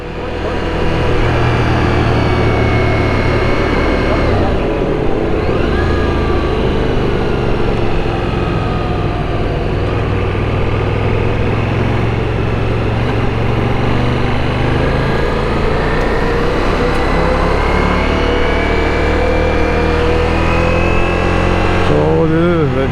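Ducati Monster motorcycle engine running steadily and loud throughout, a continuous droning roar with small shifts in pitch, close and dominant for the whole stretch.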